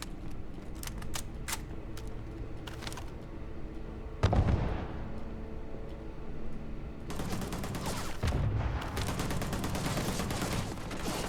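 Gunfire and a grenade blast in the sci-fi game Starfield: rapid pops and bursts of shots over a dense background, a deep thump partway through, then sustained heavy firing.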